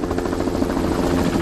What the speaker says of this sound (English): this be the helicopter that blocks our way?